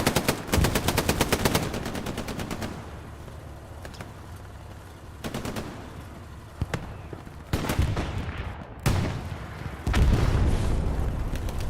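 Machine gun fire crackles in the Hell Let Loose war video game. Rapid automatic bursts alternate with heavier booms and single shots, loud and close, with a faint voice now and then in the mix.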